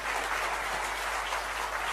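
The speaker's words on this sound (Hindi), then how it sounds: "तो एक बार जोरदार तालियां होनी चाहिए उनके लिए।" Sustained, even applause from an audience cheering a program host, a dense wash of many hands clapping at once, steady and moderately distant with a faint low hum beneath.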